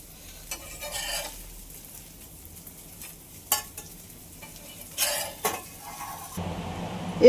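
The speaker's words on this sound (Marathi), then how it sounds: "तवा तर मी तलून काढले बोंबील" Bombay duck fish fries in a pan with a soft, steady sizzle, broken by a few sharp metallic scrapes and clinks of a utensil.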